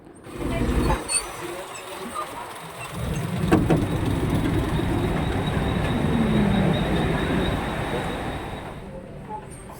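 A Mumbai local train rumbles steadily nearby with a brief brake hiss, its noise rising and holding as it pulls into Koparkhairane station.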